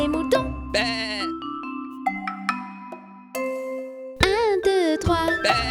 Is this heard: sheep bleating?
yes